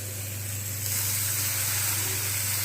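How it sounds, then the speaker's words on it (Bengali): Water poured into a pan of frying spices for a soya curry bursts into a sudden loud sizzle and hiss, then keeps sizzling steadily up close. "তো আমি এখানে একটুখানি জল দিয়ে দিচ্ছি।"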